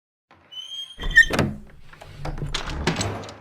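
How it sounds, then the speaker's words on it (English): A door closing in the video game DE-EXIT: Eternal Matters: a squeak, then a heavy close thud, followed by a few softer knocks and rattles as it settles, heard alone and fairly close. "Close the door, will you?"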